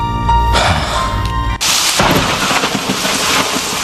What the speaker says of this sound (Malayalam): പുറത്ത് ഇരുട്ടും ഇടിയും മഴയുമാണല്ലോ